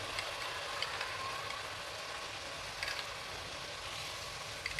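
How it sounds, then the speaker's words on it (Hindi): Masala spices frying in a pan for an aloo baingan potato-eggplant curry: a steady, soft hiss and sizzle with faint crackles and occasional spatters, close by, with no talking. "मसाला हमारा कितने अच्छे तरीके से भुन रहा है"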